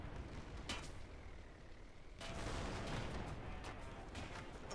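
Tank gunfire in Total Tank Simulator, heard as distant crackling shots and a sharp report, followed by a louder sustained burst of battle noise.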